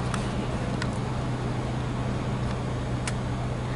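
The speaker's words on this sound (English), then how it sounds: "Just got this nice traffic noise" Steady roadway traffic roar from trucks and motorhomes on an open highway beside a rest area, a continuous low rumble with faint intermittent higher swishes, no talking.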